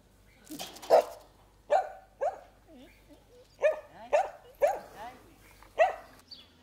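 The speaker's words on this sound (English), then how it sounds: "And bark so I can look after my property." A dog barks several times in sharp, separate yips and woofs, close and fairly loud, spaced irregularly with short gaps between barks.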